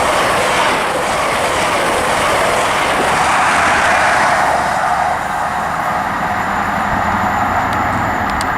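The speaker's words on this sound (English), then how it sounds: "Passing through there's 43206 and 43317 on an LNER service passing from Leeds to London King's Cross." An LNER HST led by power cars 43206 and 43317, running Leeds to London King's Cross, speeds through Grantham on the East Coast Main Line with a loud, steady rushing roar and wheel clatter throughout.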